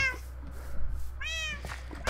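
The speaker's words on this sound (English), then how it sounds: "Shut up, you little cat." A Minecraft cat meows twice, a short call early on and a longer rising meow later, clear and close over a low background hum.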